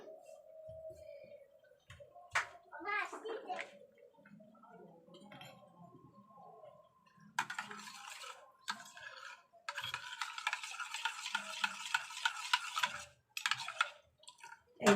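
A spoon stirs milk into katla fish biryani in a pot, giving repeated scraping and clinking taps against the metal with soft liquid swishing, close and fairly loud, with a dense burst of clattering stirring toward the end and no talk.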